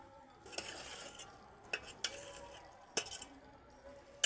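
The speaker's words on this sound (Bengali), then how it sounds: "দিয়ে গরম থাকা অবস্থায় খুন্তি দিয়ে ভালোভাবে এগুলোকে নেড়ে নেব" A spatula stirs hot sugar syrup for bonde over a low flame, making soft scrapes and a few distinct metallic clinks against the pan amid a faint, quiet bubbling background.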